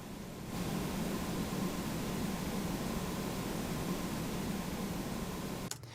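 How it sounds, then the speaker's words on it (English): Ambient room tone, a steady broadband hiss and low hum that holds evenly at a low level throughout, extended to run continuously under a song, with no voices or distinct events until a small shift at the very end. "there's nothing but the room sound that I took into Izotope RX and then cloned that and then basically just stretched it out for the entirety of the song"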